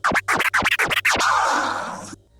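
Crossfader scratching on a Pioneer DDJ SB3 controller gives a quick series of about five chopped, pitch-sweeping scratch strokes followed by a longer drawn-out scratch, loud and alone.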